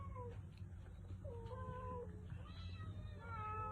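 Several house cats meow in short, high calls over a steady low background hum, with overlapping mews from more than one animal and no talking.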